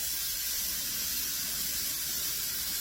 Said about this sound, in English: don't be scared of the steam coming out.